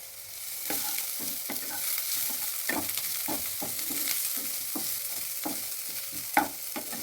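Chopped onions and garlic paste fry in oil, a steady close sizzle broken by regular scraping strokes of a spatula against the pan, with one sharper clack near the end.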